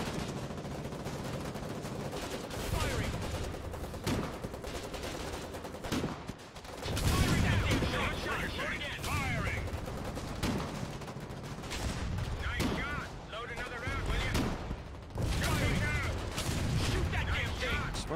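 Gunfire in the war game Foxhole, with heavy, repeated booming shots and bursts spread across the whole stretch, fairly loud and dense, with some talk mixed in.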